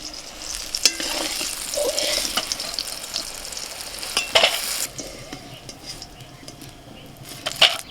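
Eggplant frying in oil with salt and turmeric in a home kitchen, a continuous sizzle under intermittent stirring scrapes and clinks of a utensil against the pan.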